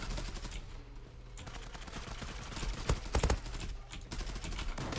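Gunfire in the online shooter Zula, heard as fairly faint bursts of rapid automatic shots. A tight cluster of cracks comes near the middle, with background game noise and no clear speech.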